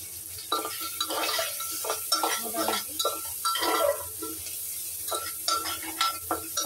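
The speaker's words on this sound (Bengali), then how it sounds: "দিলাম জিরে ফোড়ন। এবার দেবো কয়েকটা পেঁয়াজ, একটু পেঁয়াজ দিয়েই করছি।" Onions go into hot oil with cumin seeds in a pan and are stirred with a utensil, giving repeated scraping and clinking strokes over a steady sizzle, close and fairly loud.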